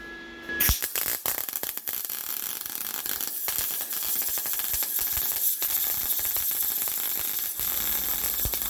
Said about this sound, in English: See if I can actually make a decent bead. Alright, barehanded MIG weld, take one.